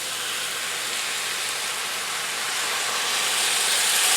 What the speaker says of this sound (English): I'm going to take another cup of water and pour this in